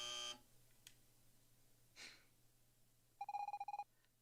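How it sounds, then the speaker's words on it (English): Buzzer cue in the video game Evoland 2: a short electronic buzz opens, then after a quiet stretch a rapid pulsed burst of about eight bright beeps, fairly faint against a low background hum. "When you hear the buzzer, move to the left."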